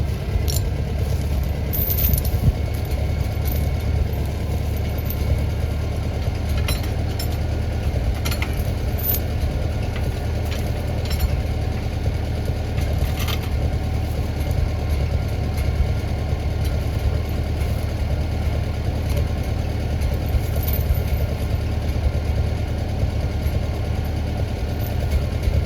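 A heavy tractor engine idles steadily throughout, a continuous low rumble with faint metallic clinks now and then.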